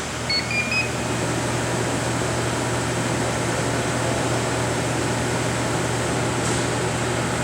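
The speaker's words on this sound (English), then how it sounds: "I have turned on the vacuum pumps and the chiller water for the heat exchanger" Vacuum pumps and a water chiller for a heat exchanger running beside a Lumonics laser wafer marker, a loud steady mechanical hum and hiss with a constant low tone throughout, plus a few short beeps near the start.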